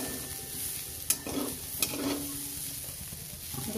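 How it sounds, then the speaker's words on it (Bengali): Onion stalks frying in a pan for a chickpea-greens dish, a steady close sizzle with two sharp clinks of a spatula against the pan and soft stirring scrapes, no voices. "দেখুন পেঁয়াজ কলিটা ভাজা হয়ে গেছে"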